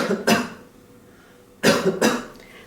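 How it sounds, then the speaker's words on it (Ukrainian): During a respiratory physical examination, a patient gives close, forceful coughs on request: a single cough, a pause, then a quick pair of coughs. "Покашляйте."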